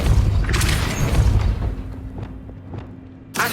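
A Depulso spell cast in the Hogwarts Legacy video game lands as a loud, dense magical boom with a rushing burst, fading into a lighter crackling tail before another sharp hit at the end.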